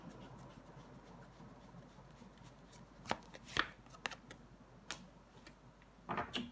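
Tarot cards being handled at a table: soft papery shuffles and light taps, with a few sharper card snaps and slides clustered near the end, faint and close with no talking.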